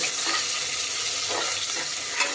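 Chopped onions frying in oil in a pan, a steady loud sizzle with faint stirring scrapes throughout, no talk.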